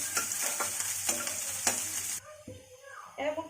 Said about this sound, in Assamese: পিয়াজখিনি অকণমান ৰংচুৱা হোৱালে ভাজিব লাগিব।